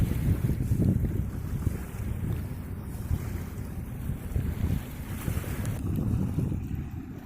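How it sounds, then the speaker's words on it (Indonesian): Coal barges move along the Mahakam River, heard as a steady low rumble of boat engines and water under strong wind noise buffeting the microphone, continuous throughout. "beriringan ponton-ponton batu bara yang memuat batu bara"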